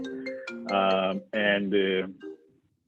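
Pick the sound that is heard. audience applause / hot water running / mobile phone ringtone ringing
mobile phone ringtone ringing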